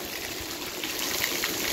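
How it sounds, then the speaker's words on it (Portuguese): Heavy nighttime rain pours down steadily with water running and gushing along the curbs during a thunderstorm in Acopiara, Ceará, a dense, continuous wash of noise close by with no talking. "mas já tem de 20 a 30 minutos que está chovendo, e com muitos relâmpagos e trovões."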